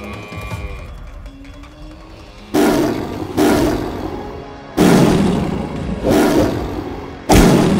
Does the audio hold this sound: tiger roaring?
yes